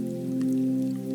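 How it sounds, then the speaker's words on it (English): Steady rain falls outside a cozy bakery in the evening, a soft continuous patter with faint droplet ticks, even and unbroken. "The rain continues"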